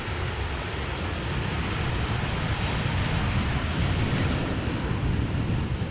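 An airliner arriving in a crosswind at Amsterdam Schiphol Airport, a broad steady jet roar that holds at moderate loudness for the whole stretch, mixed with wind buffeting and no speech.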